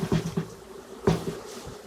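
Honey bees give a low buzz, with a few brief thumps from the frame shake that drops them into a box while a hive is being split. The sound is faint and sits close by.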